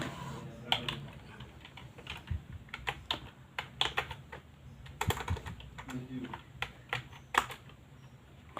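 A computer keyboard clicks in irregular bursts of keystrokes as a password is typed into Termux, close and fairly quiet, with no talking.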